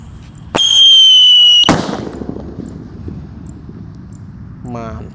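A Rambo firecracker is lit during Ramadan. One sharp, loud whistling burst lasts about a second and ends in an abrupt crack, followed by quiet background noise and a brief rising squeal.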